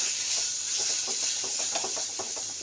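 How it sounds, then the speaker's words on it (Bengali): Spices being sautéed in hot oil for a Bombay duck fish curry, giving a steady close hiss and sizzle with faint stirring scrapes and no talk. "এই যে এরকম করে মশলাগুলো কষে নেব।"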